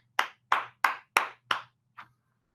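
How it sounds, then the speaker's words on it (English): Audience applause for a runner-up at a school speaking contest, heard as five evenly spaced loud single claps followed by a fainter sixth, close and isolated with no voices. "Let's give another round of applause."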